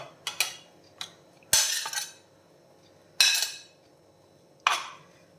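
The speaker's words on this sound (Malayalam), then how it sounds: "തക്കാളി, പച്ചമുളക്, അതുപോലെ വെളുത്തുള്ളി, ഇതെല്ലാം കൂടെ ഇടുകയാണ് കേട്ടോ" Tomato, green chili and garlic tossed into a pan for a quick curry, giving several sharp metallic clatters and clinks of utensil against cookware, spaced irregularly with quiet gaps between.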